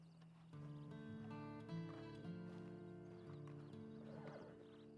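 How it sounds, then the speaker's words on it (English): Steady horse hoofbeats from the game Red Dead Online clop along with a tonal, musical backdrop; no talking, the sound continuous and moderately close. "you better get on this horse"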